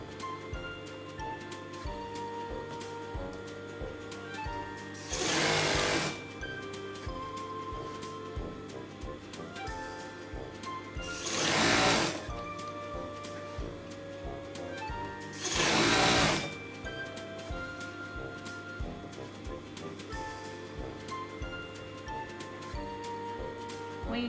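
A sewing machine stitching a mermaid skirt whirs in three short bursts, each a second or so long, separated by quiet pauses with faint background hum.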